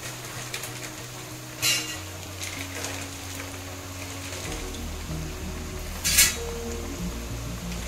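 Chekkalu, rice crackers made with buttermilk, fry in boiling oil with a steady, soft sizzle, broken twice by brief metallic clinks of a utensil.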